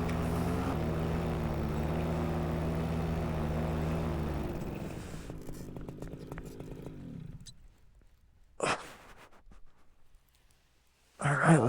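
A light aircraft's engine drones steadily on a short flight and landing on a mountaintop, a loud, close tonal hum that fades away over several seconds, leaving near quiet broken by brief bursts of wind or handling noise.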